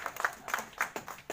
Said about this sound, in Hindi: तो सर के लिए जोरदार ताली बजाएं।